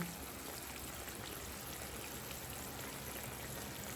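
Pork simmers in water in a cooking pot, a faint, steady bubbling and gurgling that runs on without a break.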